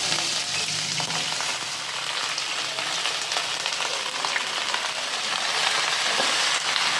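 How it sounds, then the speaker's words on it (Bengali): Crabs frying over high heat in hot oil with a little salt and turmeric for Bengali spicy crab curry, a loud, dense, continuous sizzle heard close up without voices. "কাঁকড়াগুলো এরকম করে ভেজে নেব অল্প লবণ দিয়ে একটু হলুদ দিয়ে কাঁকড়াটা হাই হিটে ভাজবো"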